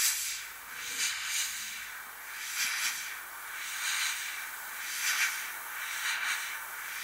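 Airbrush spraying thinned Tamiya paint: a steady soft hiss of air and paint mist pulses in repeated passes, swelling and easing about once a second, close and fairly quiet with no talk.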